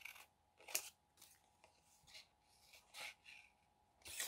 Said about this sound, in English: Let me cut out a couple butterflies here